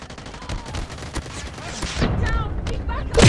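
Gunfire in the mobile shooter Call of Duty Mobile, rapid bursts of automatic shots crackling through the first half, then louder game action and effects, with a player talking over it.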